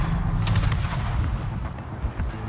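Torpedo hits on the battleship Illinois in a naval combat video game, heard as a heavy low rumbling boom with a cluster of sharp crackling bursts over roughly two seconds.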